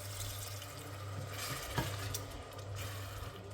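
Ginger-soaked water, from ginger crushed in a mortar, is poured into a frying masala with tomato for a zucchini dish, giving a soft, continuous watery pour with a faint low hum and a few small splashes, with no talk.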